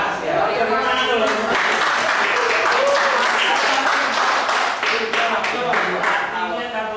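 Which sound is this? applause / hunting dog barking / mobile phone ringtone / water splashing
applause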